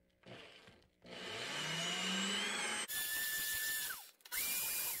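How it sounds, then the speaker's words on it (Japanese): Wooden chopsticks are sanded down with coarse 120-grit sandpaper in several loud bursts of whining, motor-like grinding with a gritty rasp. The bursts start and stop abruptly, and the pitch dips as each one winds down. "400番ではラチが開かなかったので、120番で、少し粗く削っていきます。"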